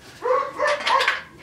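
A few sharp dog barks and yips in quick succession, fairly close, with a whiny edge between them.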